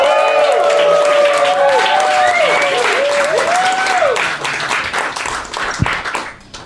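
Loud audience applause and cheering for stand-up comedian Mike Degen, with whoops over dense clapping that holds steady before thinning out and fading near the end.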